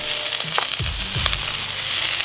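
Onions and steak sizzling on a Blackstone griddle, a steady loud hiss with faint scrapes and pops, no talking over it.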